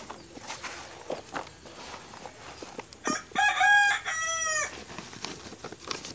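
A rooster crows loudly and close by among a flock of around a hundred backyard chickens, the crow rising clearly in the middle, with scattered clucks and scuffling footsteps before and after.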